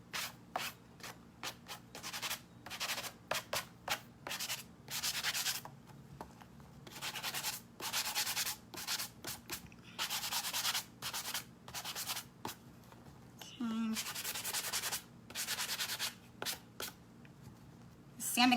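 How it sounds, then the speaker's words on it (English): Sanding sponge scrubbing over a painted wooden Easter bunny in repeated rhythmic bursts with short pauses, close and fairly loud, a faint low hum underneath. "we're gonna sand it so that some of the black will show through,"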